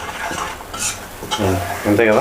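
Masala puffed rice (borugulu) roasting and being stirred in a pan on a stove, with a dry rustling sizzle and a few louder scraping stirs near the end, close and alone without talk.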